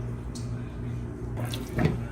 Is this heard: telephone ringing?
no